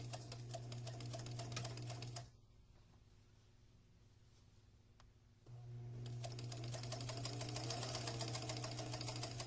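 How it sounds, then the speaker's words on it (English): A sewing machine straight-stitches along the edge of a drawstring channel on a French horn instrument sleeve, whirring in a rapid steady run, pausing for about three seconds, then resuming close and steady. "using a straight stitch, we're going to stitch just along the edge"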